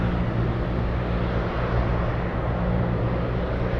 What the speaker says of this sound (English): Let's go for the FedEx 777 now,